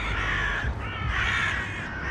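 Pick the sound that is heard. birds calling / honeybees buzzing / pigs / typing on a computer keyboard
birds calling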